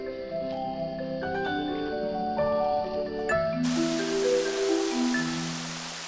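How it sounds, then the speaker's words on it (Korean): Rain falls in the Costa Rican jungle, a steady broadband hiss that begins abruptly partway through and keeps on beneath a continuing melodic music bed. "코스타리카 정글에 비가 내린다."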